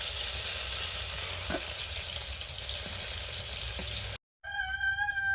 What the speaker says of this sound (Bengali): পাঁচ মেশালি সবজিটা করবো এখন ফোড়নে দিলাম রাঁধুনি